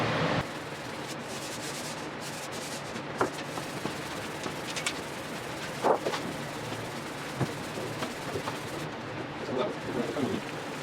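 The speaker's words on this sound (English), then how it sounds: "That's just a quick scuffing pass to give the adhesive some tooth." A drum shell surface gets a quick scuffing pass with sandpaper, a steady rubbing hiss punctuated by a few sharper scrapes and knocks, close and continuous for about ten seconds.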